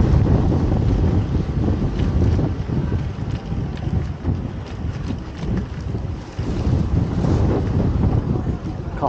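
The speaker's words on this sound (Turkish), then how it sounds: "Rüzgar da maşallah sert sert esiyor." Strong, gusty wind blows steadily near Marmaris harbour in Turkey, loud and continuous with buffeting on the microphone and boat and water sounds mixed in, running the whole time without a break.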